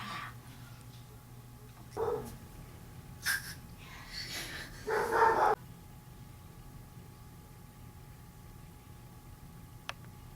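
A puppy gives a few short, scattered yaps and snorts at moderate distance, spread over several seconds against a quiet background with a low steady hum.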